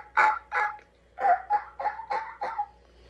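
A person's mouth imitates a turkey yelp in a quick, quiet series of about eight clucking yelps, close and clear, grouped in two runs with a short pause between them.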